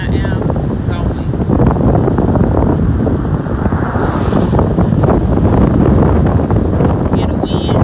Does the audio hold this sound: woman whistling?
no